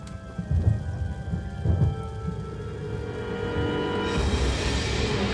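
Rain and thunder in the Lollipop Chainsaw video game: steady rainfall hiss with a couple of low thunder rumbles early on, and the rain swelling louder and brighter toward the end.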